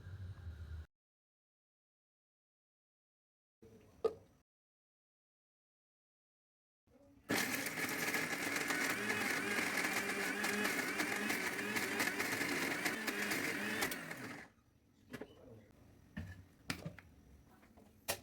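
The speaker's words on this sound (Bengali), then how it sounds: "এরপর ব্লেন্ডারের জারে ঢেলে ব্লেন্ড করে নিব।" A kitchen blender grinds fried spices for a Chinese-style duck recipe, running loud and steady for about seven seconds. Brief knocks and handling clatter come before and after it, with near silence in between.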